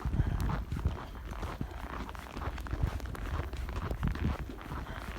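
Footsteps of an adult and a three-year-old walking through snow during a Canadian snowstorm, a steady run of soft crunching steps, close and fairly loud.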